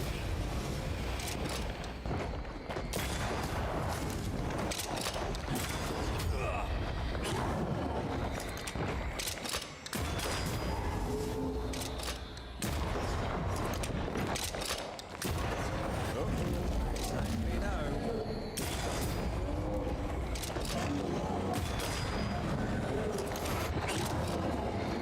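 Repeated gunshots and booms ring out in the video game Banishers: Ghosts of New Eden, coming from a corpse, a dense loud barrage with brief pauses over roughly twenty-five seconds, with speech mixed in.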